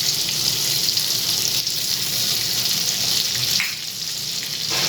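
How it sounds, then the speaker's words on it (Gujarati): Crushed garlic sautéing in butter with a little oil for street-style pasta, a loud steady sizzle close by with brief stirring scrapes and a slight dip in the frying hiss near the end. "હવે 1 મિનિટ માટે આપણે પહેલાં લસણને સાતળી દઈશું।"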